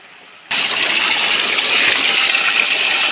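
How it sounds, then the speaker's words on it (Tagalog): After a moment of quiet, spring water suddenly gushes into a concrete water system intake box with a loud, steady rushing roar that continues unbroken, close and dominant. "makikita natin ang mga tubig na dumaloy patungo sa loob po ng intake box"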